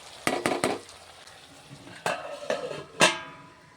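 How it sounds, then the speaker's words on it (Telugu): A spoon stirs chicken masala frying in a pan, with several sharp scraping clacks against the metal in quick clusters over a soft continuous sizzle. "మధ్య మధ్యలో ఇలా కలుపుకుంటూ ఉంటాను ఎందుకంటే అడుగంటిపోకుండా మసాలా"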